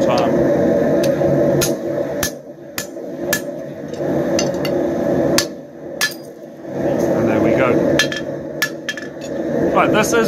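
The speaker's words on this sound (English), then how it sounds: "if you see me hammering cold steel" Metal-on-metal hammer strikes ring out repeatedly, sharp and close, as a drift is driven through a hole in cold mild steel while forging a bottle opener, over a steady droning background hum, in irregular bursts with short pauses.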